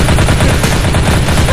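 Loud, rapid automatic gunfire from the survival video game DayZ, a dense burst of shots rattling close and continuously with no one talking over it.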